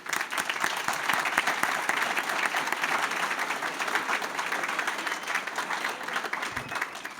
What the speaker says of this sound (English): let's give Dr. Welch a round of applause